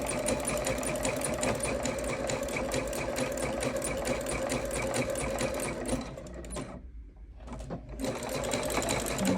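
A sewing machine zigzag-stitching a pineapple block onto a rope bowl runs in a loud, close, continuous whir, slowing and briefly stopping before resuming.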